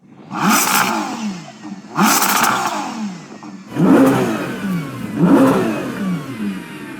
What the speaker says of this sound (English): can you hear my car revving?